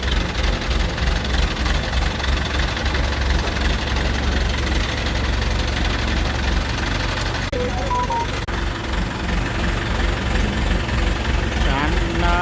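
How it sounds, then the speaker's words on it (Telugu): A motorbike engine runs at idle, a loud continuous low rumble close by, with a person talking over it for part of the time. "చూడు మన బండి ఇంజన్ వస్తుంది."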